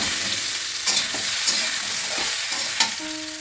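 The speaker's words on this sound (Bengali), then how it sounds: "এবার আমগুলো দিয়ে দেবো। এটা গরম হয়ে যাওয়ার পরে আমগুলো দিয়েছি।" Mango pieces, cut in the morning, salted and sun-dried, sizzle steadily in a hot pan for a village-style sweet-sour mango relish, with repeated scraping stir strokes close by and no voices.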